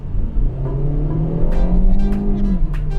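A 2021 Hyundai i30 N Line hatchback's engine revs up steadily under hard acceleration in fourth gear, the pitch climbing over a few seconds, heard from inside the cabin.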